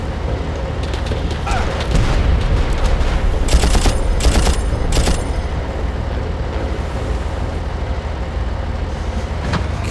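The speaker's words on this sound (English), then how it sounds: "Now who's shooting at us?" Far Cry gunfire crackles as a rapid cluster of sharp shots midway, set against a constant loud rumble of engine-like background noise, with scattered fainter pops before and after.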